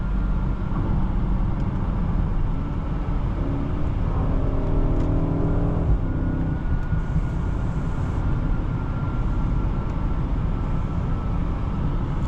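Cabin of a 2025 BMW 760i xDrive on the move, a steady low road and engine hum with smooth even tyre noise and a brief rise in engine tone mid-drive, and no talking.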